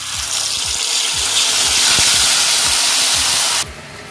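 Loud, steady sizzling and hissing of large chicken leg pieces frying in ghee in a pan for restaurant-style Kolkata chicken chaap, a continuous close hiss with faint thuds as pieces go in, cutting off sharply near the end.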